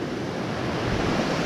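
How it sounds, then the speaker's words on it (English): Waterfall beside a hiking trail in New Hampshire on the Appalachian Trail, a dense, steady broadband rush of falling water, close and loud, with no voices. "along this waterfall. Beautiful waterfall."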